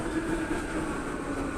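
A New York City subway train rolls past the Bleecker Street Station platform with a steady, loud roar and rumble that holds throughout, with no talk.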